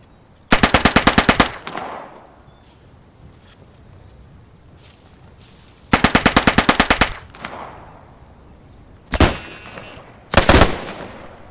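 Bursts of machine-gun fire in the Post Scriptum war game: two long rapid volleys several seconds apart, then two shorter bursts near the end, loud and sharp with quiet gaps between.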